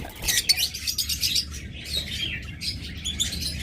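Pet birds for sale, a pair among them, chirp and tweet busily in quick overlapping bursts, close and fairly loud with no talking.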